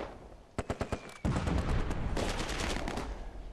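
Gunfire in the Close Combat II war game: four quick separate shots, then a sustained rattling burst of automatic fire that continues loudly to the end.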